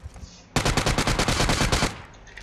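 Rapid automatic gunfire from PUBG Mobile rattles out in a dense, loud burst of about a dozen shots aimed at a car tyre, lasting over a second before stopping abruptly.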